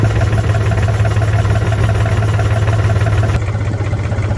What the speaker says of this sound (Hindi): ये कम एक्सीलेटर में चलता नहीं है ट्रैक्टर